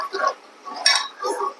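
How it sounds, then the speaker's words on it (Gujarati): A spoon stirs kulfi milk in a metal pot with light clinks and scraping taps, coming in three short bursts close to the listener. "હવે આપણે આને એકદમ હલાવી અને મિક્સ કરી લઈશું"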